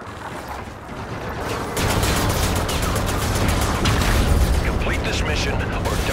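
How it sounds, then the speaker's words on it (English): A Trinity rocket strike lands in Call of Duty: Infinite Warfare, bringing a dense, loud barrage of booms and crackling impacts that roll on continuously, with speech mixed into the din. "Ally Trinity rocket arriving on site."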